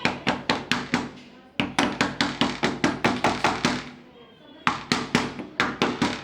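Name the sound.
hammering while fixing a door lock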